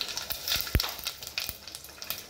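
Tempering spices such as coriander seeds, cumin and fenugreek fry in hot oil, giving faint, scattered crackles and pops over a soft sizzle.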